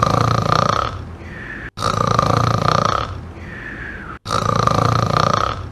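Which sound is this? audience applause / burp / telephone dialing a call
burp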